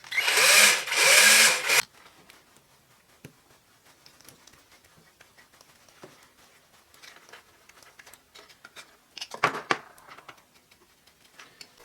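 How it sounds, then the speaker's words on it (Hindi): A small power drill bores a hole in a power bank casing in one close, loud whining burst of about two seconds, followed by quiet handling noises and a brief second whir near the end. "इसको इस तरह इसके ऊपर लगाने के लिए मैं इसमें यहाँ पे एक छोटा सा सुराख कर लेता हूँ।"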